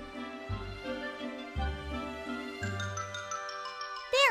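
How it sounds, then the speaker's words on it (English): A bright farm dinner bell rings with sustained metallic tones, shifting to a higher chime partway through, over a low steady hum, ending in a quick sliding flourish. "that sounds like the dinner bell"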